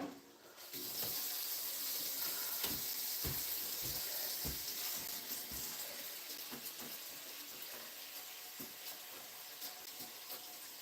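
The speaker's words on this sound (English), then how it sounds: "Now we're going to pour boiling water all over these" Boiling water pours from a kettle or pot over tomatoes in a pot, a continuous splashing rush lasting several seconds with scattered small knocks and clinks. No voices.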